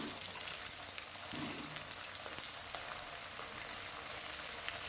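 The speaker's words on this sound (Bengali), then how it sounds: "গরম তেলে আলুগুলো দিয়ে দিলাম।" Potatoes fry in hot mustard oil in a pan, giving a steady close sizzle and crackle with small pops scattered throughout and no voices.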